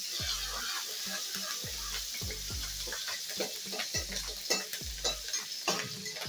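Green chili and salt are stirred into sizzling tempering oil for shevya upma, with a continuous crackling sizzle broken by regular, close scraping stir strokes roughly every half second.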